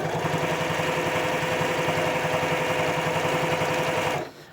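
A sewing machine stitches binding onto a quilt at a steady, fairly quick pace, its rhythmic mechanical chatter close and continuous before stopping abruptly at the end.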